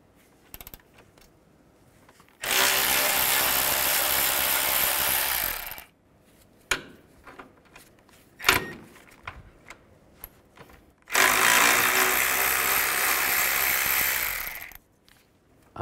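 A power tool spins a 13mm socket to remove two bolts during turbocharger replacement on a 2007-2013 Mini Cooper S, heard in two loud sustained bursts of several seconds each, separated by quieter clinks and handling noise.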